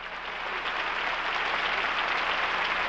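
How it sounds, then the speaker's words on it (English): A large concert-hall audience at Lincoln Center in New York applauds and cheers in a standing ovation after an orchestra and chorus performance, a dense, steady roar of clapping that holds at an even level throughout. "The Lincoln Center audience responded with a cheering 10-minute standing ovation."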